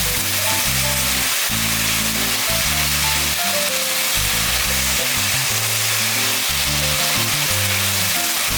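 Rice cakes stir-fried with soy meat and a mother sauce for royal-style tteokbokki, a loud, continuous sizzle of hot oil with stirring, backed by a steady musical accompaniment.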